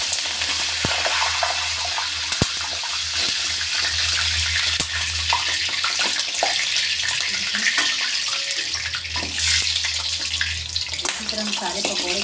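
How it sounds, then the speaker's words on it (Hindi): Okra pakoras fry in hot oil with a steady, dense sizzle that runs throughout, joined by occasional light clinks and stirring, while a person talks quietly underneath. "इसी तरह हम सारे पकौड़े को तल लेंगे और बना लेंगे।"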